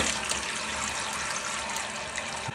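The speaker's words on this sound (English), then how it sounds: "Now it's going to fill the tank with water" A toilet tank refills after the water supply is turned back on during a running-toilet repair, a steady close hiss of rushing water throughout, no talk.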